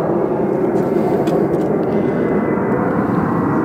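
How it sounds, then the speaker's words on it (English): An airplane passes overhead outdoors at an old barn foundation, a steady, loud broadband roar filling the whole short stretch with no break or voices. "Goddamn airplane."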